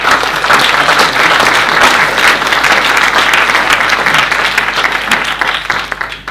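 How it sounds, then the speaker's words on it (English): An audience at a debate on the monarchy applauds panel speakers, a loud, sustained wash of many hands clapping that continues steadily throughout, with a murmur of crowd underneath. "So we can have a quick round of applause for"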